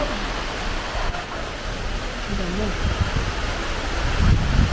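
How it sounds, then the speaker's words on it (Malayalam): Wind and rain roar steadily in a dense hiss, with gusty low rumbles buffeting the microphone and a faint voice underneath. "കാറ്റും മഴ"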